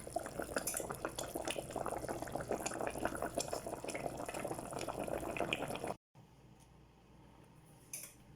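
A small pot of meat stew with vegetables bubbles and simmers steadily up close, with a brief clink of metal before the sound suddenly drops to a quieter, faint simmer.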